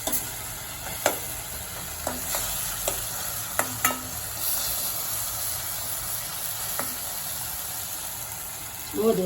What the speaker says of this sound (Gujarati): તેલ છૂટું પડે ત્યાં સુધી આપણે એને સાતળશું।